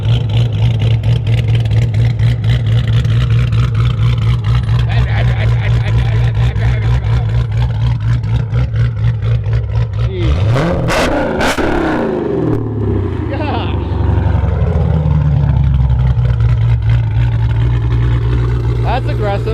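A Dodge Charger fitted with a Borla ATAK exhaust idles with a deep, steady burble, then is revved hard in a sharp rising blip before settling back to a loud rumble, close by.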